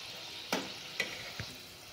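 Bakarwadi frying in hot oil, a soft steady sizzle heard close and quiet, with three brief clinks or scrapes from the utensil.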